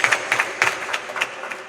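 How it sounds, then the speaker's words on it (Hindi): Applause from a gathered crowd at a Navratri religious event, a short burst of scattered hand claps rising and falling in quick, uneven beats. "इन्हें भी हम तालियां बजाकर धन्यवाद"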